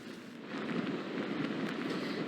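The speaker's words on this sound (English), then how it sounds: "now the rain's starting to pelt down" Hurricane Nicole rain pelts down in darkness at Vero Beach on Florida's Treasure Coast, a dense, steady hiss of falling water that swells slightly after the first half second, with no voices.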